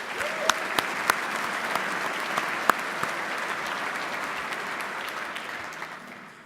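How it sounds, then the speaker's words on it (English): An audience at a Hall of Fame ceremony applauds John Collins with sustained, dense clapping and a few sharper claps standing out, before the sound gradually tapers off. "How about a round of applause for John Collins?"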